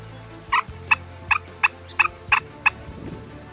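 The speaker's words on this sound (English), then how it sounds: "Got some turkeys moving in." Wild turkeys gobble during a hunt in about seven sharp, evenly spaced calls, moderately loud and somewhat distant, over a quiet outdoor background with a faint low hum.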